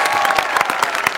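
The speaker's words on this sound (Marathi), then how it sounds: "जोरदार टाळ्या" Loud audience applause on a comedy show stage, brisk, dense clapping with distinct sharp claps standing out, sustained and energetic throughout, with a hint of cheering mixed in.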